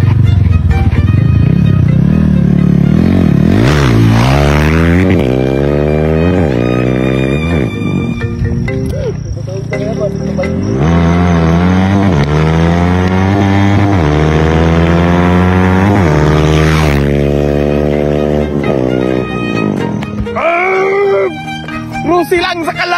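A Rusi motorcycle revs hard during a wheelie attempt, its loud, close engine climbing and dropping in pitch over several long bursts, with a brief lull midway before the throttle opens again.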